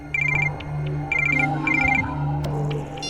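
An incoming call sets a telephone ringing in short repeated bursts of electronic trills over a low background hum, heard in an Indian crime-drama scene set among tribal villagers.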